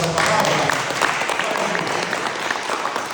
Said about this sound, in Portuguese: Você pode aplaudir ao bom Deus por essa palavra?